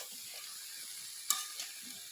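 Malabar spinach and pumpkin fry in a pan with a soft, faint hiss, broken by one sharp clack of a utensil partway through and a quieter knock after it.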